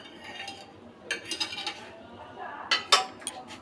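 A semolina, flour, egg and vegetable pancake is lifted from a pan. Close metal scrapes and a few sharp clinks of utensil on cookware come in bursts, with no talk.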